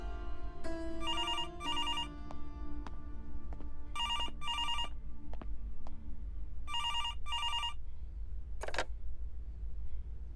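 An indoor telephone rings in paired bursts, three double-rings spaced a couple of seconds apart, bright and clear over a low background hum, with a brief sharp click near the end.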